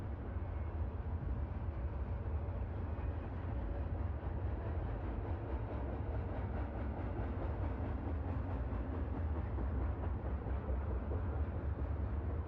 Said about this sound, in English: adding the new train noises